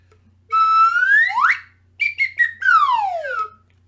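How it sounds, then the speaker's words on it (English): A whistle blown loudly in two bursts, with sliding, warbling tones: a rising sweep first, then choppy notes and a falling glide, alone over a faint low hum. "Where's my whistle here?"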